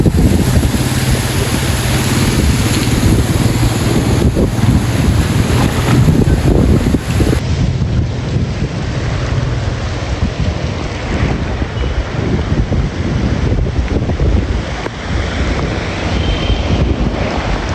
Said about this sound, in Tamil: பாருங்க கடல் தான் பாருங்க எப்படி சுற்றி வர பாருங்க